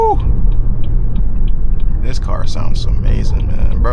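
The B58 engine of a Stage 2 tuned BMW 340i rumbles low and loud inside the cabin at night, a steady drone under excited voices talking and whooping over it.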